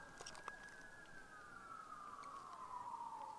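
A single emergency vehicle siren wails in the distance outdoors in the desert, its faint tone sliding slowly downward.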